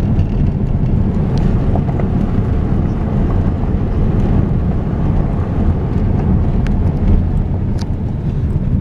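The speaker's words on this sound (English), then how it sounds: "We are about a mile off of pavement now, driving up San Pablo Canyon." A vehicle drives up the unpaved San Pablo Canyon road with a loud, continuous low rumble of engine and gravel, buffeted by wind noise and broken by occasional clunks and knocks.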